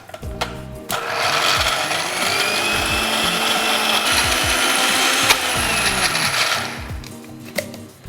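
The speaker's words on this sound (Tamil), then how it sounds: "இதை அரைச்சிக்குவோம் இப்போ." A kitchen mixer grinder spins up after a short pause and runs continuously for several seconds with a loud, high whirring roar while grinding ingredients for beetroot vadai, then winds down, with a few knocks before and after.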